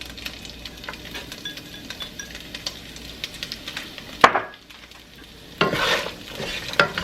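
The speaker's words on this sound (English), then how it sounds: "I'm gonna scrape all those bits and pieces right off the bottom of my pan" Metal utensil scraping the bottom of a crowded pan of sizzling carrots, garlic and turkey meatballs, with a steady fry hiss, occasional stirring clinks and two louder scrapes near the end.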